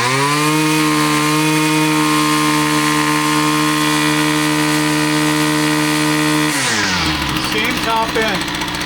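A Husqvarna 122L strimmer with a restricted airbox revs hard at full throttle, holding a loud, steady, high-pitched two-stroke whine for several seconds before the pitch drops and wavers as it comes off throttle.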